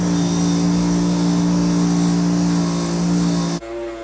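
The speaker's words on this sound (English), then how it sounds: "So what I have right here is my wire wheel." Loud continuous whine of a power tool's spinning wire wheel cleaning metal for welding a turbo pipe, steady and close, then it cuts off abruptly near the end.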